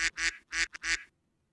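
Duck quacking sound effect: four loud, nasal quacks in quick succession, up close and alone, ending abruptly in silence.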